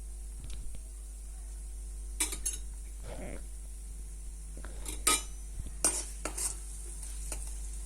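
Mustard seeds, cumin, fenugreek and asafoetida are stirred in hot sesame oil for a traditional garlic kuzhambu: scattered metallic scrapes and clinks of a spoon against the pan over a faint sizzle and a low steady hum.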